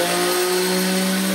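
A treadmill DC motor running on a speed controller gives a loud, steady electric whine with a strong, even hum that holds constant from start to finish, close up and with no voices.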